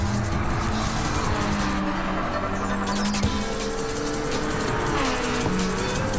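Race car drifting and understeering on a race track, with a continuous loud engine roar and tyre squeal throughout.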